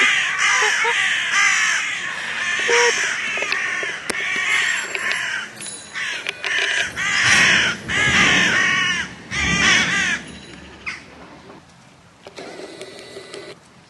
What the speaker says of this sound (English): Oh my gosh, these birds are going crazy.